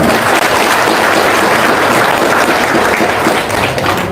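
An audience claps steadily in a loud, dense burst at a gathering, with no voices standing out above it.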